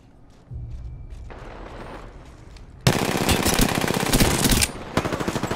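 Gunfire during a squad battle in the battle royale Apex Legends, quiet at first, then loud rapid automatic bursts crackling close up, with thuds and a brief pause before more shots.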